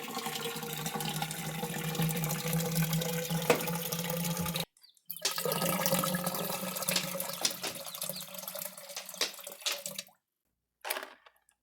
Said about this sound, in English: going to go ahead and pour the water in for them